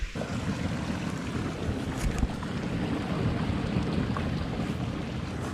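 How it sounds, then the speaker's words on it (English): Water rushes through a debris-choked overflow pipe on a homestead, a continuous low, heavy roar with steady broadband hiss and some wind buffeting, unbroken for several seconds. "there's still lots of water moving through it"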